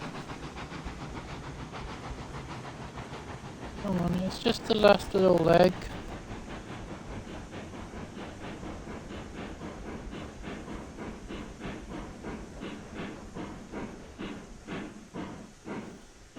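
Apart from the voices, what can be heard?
steam train climbing in the video game Railroads Online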